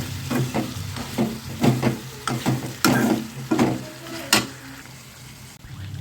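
Mutton pieces coated in masala sizzle in a pan while a spoon scrapes and clatters through them in quick, irregular strokes, close up, before the stirring fades near the end.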